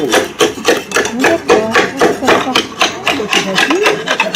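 A roofer's hammer strikes slate on an anvil to trim it, a quick run of close, sharp, regular taps, with people talking over the work.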